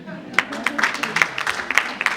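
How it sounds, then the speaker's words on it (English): Audience applause at a Uganda diaspora business expo breakfast, a steady room-wide patter of clapping with sharper individual claps standing out, moderately near and continuous throughout. "A round of applause to her again, guys."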